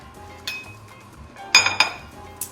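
Metal utensil scraping and clinking against a baking dish while a slice of enchiladas is cut, a few short sharp clinks and scrapes close by with no talking.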